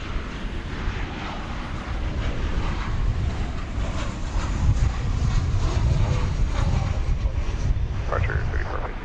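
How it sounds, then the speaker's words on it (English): A plane arriving on the runway at DFW Airport at night, a broad steady jet engine roar that swells slightly toward the middle, heard from a distance and fairly loud throughout. "Our first arrival on Runway DFW for this Tuesday night."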